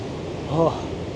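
Ocean waves pound the shore at Land's End, Cornwall, a steady broadband surf roar throughout the short stretch, with a brief voice rising over it midway.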